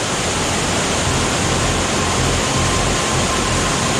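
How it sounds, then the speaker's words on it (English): Asik Falls in Mindanao, Philippines, a powerful waterfall giving a loud, dense, unbroken roar of rushing water, close and constant. "the water's just so powerful today"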